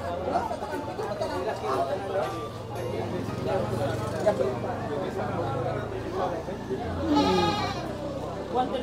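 Goats on a farm bleat several times, near and fairly loud, over ongoing chatter and talk among people.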